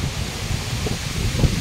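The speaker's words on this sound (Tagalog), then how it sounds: "Ay, para akong tatangayin ng hangin" Strong gusting wind buffets the microphone and rustles leaves on a farm after a storm, a close, rough, steady roar with faint thumps.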